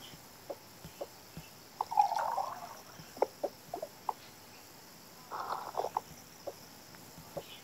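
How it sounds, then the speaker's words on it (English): Dishes being washed under running water at home, with brief splashes of flowing water and scattered clinks and knocks of dishware, quiet and close. "Wash dish."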